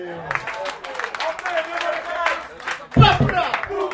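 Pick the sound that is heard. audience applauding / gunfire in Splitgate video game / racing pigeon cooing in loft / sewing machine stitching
audience applauding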